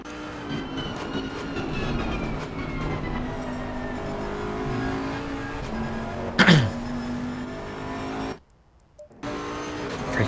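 Onboard lap in a GT3 race car at Paul Ricard in Assetto Corsa Competizione, a steady engine drone with shifting harmonic tones, a brief sharp burst midway and a short dropout near the end.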